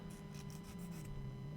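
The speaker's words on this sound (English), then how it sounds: "So just kind of sanding down the edges of this a little bit real quick." Sanding the edges of a unicorn-shaped frame by hand, a few quick, soft rasping strokes in a rough rhythm, faint over a steady low hum.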